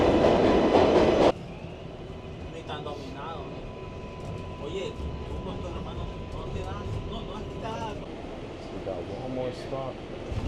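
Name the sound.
New York City train arriving and running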